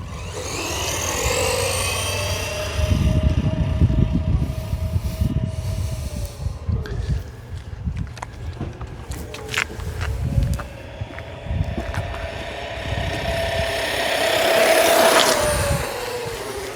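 Hornet Evo RC car on a speed run, a whiny high-pitched electric motor rising and falling in pitch as it accelerates and passes, with rushing, rumbling low-end noise throughout and no talk.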